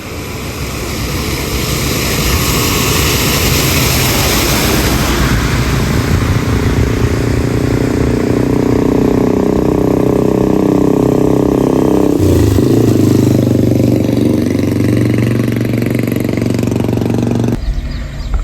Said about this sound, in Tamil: இப்போதாங்க க்ரேன் வந்துட்டு இழுத்துட்டு வருது ஒரு வண்டி ஆக்சிடென்ட் ஆன வண்டியை